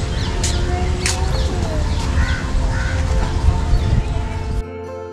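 Birds call in Lodi Garden, New Delhi, with several crow-like caws spaced apart over a steady outdoor hum; the background cuts off abruptly near the end.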